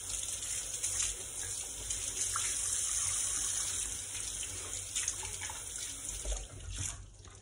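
Tap water runs steadily into a kitchen sink during cleanup after frying, a continuous splashing gush with faint clinks of washing, heard close with no talking.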